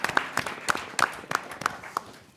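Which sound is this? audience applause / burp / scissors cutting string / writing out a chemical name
audience applause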